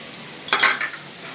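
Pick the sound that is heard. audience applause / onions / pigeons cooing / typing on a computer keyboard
onions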